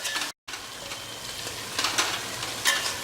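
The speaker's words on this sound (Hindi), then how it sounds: "अब इस प्याज को बढ़िया भून लें, लगभग 10-12 मिनट अच्छा बढ़िया भून लें" Onions fry in a pan, giving a steady close sizzle with light stirring scrapes and a brief gap near the start, and no voices.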